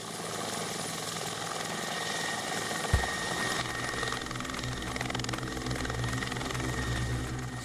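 A military helicopter used in infiltration training flies steadily, its engine and rotors making a continuous broadband drone throughout, with one brief thump near the middle.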